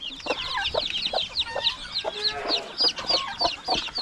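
A flock of farm chickens clucks steadily nearby over a busy backdrop of higher bird chirps, the calls overlapping in loose, irregular bursts.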